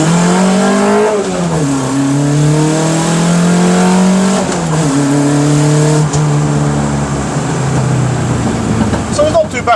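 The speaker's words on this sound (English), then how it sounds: "I'm just gonna do a little standing start without pissing everybody off" Renault R5 rally car, Le Mans Edition, pulling away from a standing start in a quiet village, engine revs climbing and dropping through quick shifts into first, second and third gear; loud, close in-cabin engine drone throughout.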